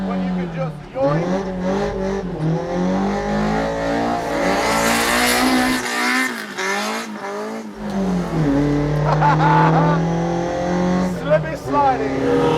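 A Toyota AE86 drifting on a wet hill-climb road in New Zealand, its engine revving high and rising and falling as it slides, with tire noise under the engine and someone talking over it throughout.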